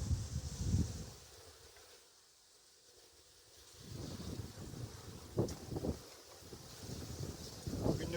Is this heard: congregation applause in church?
no